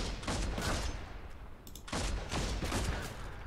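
Gunfire in the video game Warhammer 40,000: Deathwatch, dense rapid bursts of loud shots in two volleys separated by a short lull, heavy and close, with no voices.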